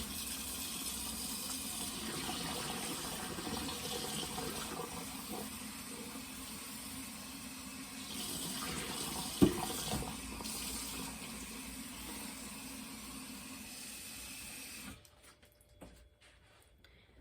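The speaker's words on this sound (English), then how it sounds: "I'm going to run this under some cold water" Cold tap water runs steadily into a sink over strawberries, a continuous close splashing stream with a few small knocks before it cuts off near the end, leaving quiet.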